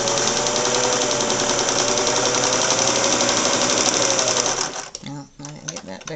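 A vintage Singer 401A sewing machine stitches imitation leather with a loud, close, rapid and even mechanical chatter that runs steadily and then stops with a few clicks.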